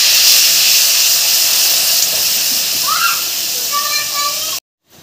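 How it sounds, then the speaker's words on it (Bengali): Water hits hot spice paste of turmeric and chili powder in a pan and sizzles loudly. A broad, close hiss holds steady and slowly eases, a few faint squeaky chirps come near the end, then it cuts off abruptly. "জল দিয়ে দেবো।"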